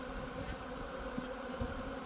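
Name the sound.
honey bees buzzing around a hive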